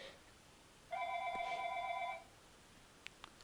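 A phone in the video game Octodad rings in a single burst of about a second and a half, a bright, steady electronic trill standing alone against a quiet background, followed by a couple of faint clicks.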